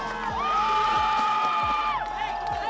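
Football crowd at a Primera Andaluza match between FC Malaga City Senior and Atletico Estacion cheering wildly, with high sustained shouts and whoops rising over a busy background, plus rhythmic thumps beneath.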